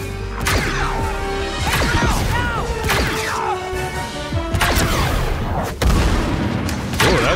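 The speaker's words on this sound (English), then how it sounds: "that was a good explosion sound" Explosions in the Star Wars Outlaws video game, a chaotic run of loud booms, crashes and sharp impacts, several heavy blasts spaced across the stretch with debris and gunfire-like cracks in between, close and forceful.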